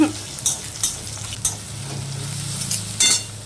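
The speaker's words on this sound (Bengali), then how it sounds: "পেঁয়াজ ভাজা হয়ে গেছে এবার দেখো রসুনটা দিয়ে দিলাম" Garlic tossed into a pan of fried onions, a steady sizzle broken by several sharp scraping stirs of a spatula against the wok, close and fairly loud with no voices.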